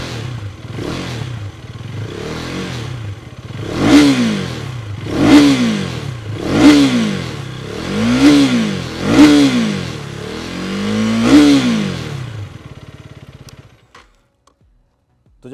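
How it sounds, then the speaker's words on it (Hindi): A 2024 KTM Duke 250 with an underbelly exhaust revs up close, idling before six or seven strong throttle blips rise and fall in a regular rhythm. Then the engine cuts off into near silence. "अब इसमें जो एग्जॉस्ट है ये अंडर बेली आता है और इस तरह से साउंड करता"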